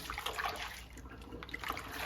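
Water poured carefully over beans soaked for akara, washing them in a bowl, a soft continuous pour and trickle at moderate level with faint splashes throughout.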